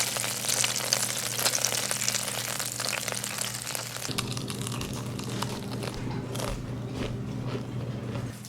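Chicken pieces fry in hot oil, giving a steady, close sizzle and bubbling that runs throughout with no pause and no voices.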